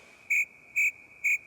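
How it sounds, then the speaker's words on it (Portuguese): A cricket chirps three times in an even rhythm, each short trill clear and close over a faint steady background hum. "tá ouvindo o grilo?"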